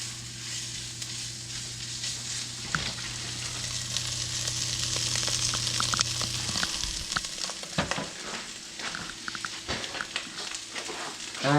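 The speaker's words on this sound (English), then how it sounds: "go ahead and mix that chorizo around nice and good until it's all mixed in very well" Chorizo stirred with a spatula in a hot frying pan, a steady close sizzle and fry with scraping strokes against the pan, loud and continuous with no talking.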